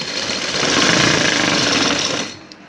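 A sewing machine stitching a sleeve border runs in one steady, loud, whirring burst of fast needle strokes, then winds down and stops near the end.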